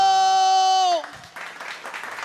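Live audience applause breaks out after a sustained sung note ends, with a dense patter of clapping that continues steadily to the end at moderate loudness.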